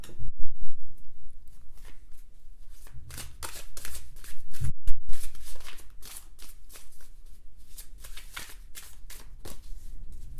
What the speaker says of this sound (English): All right, so I'm gonna shuffle some more.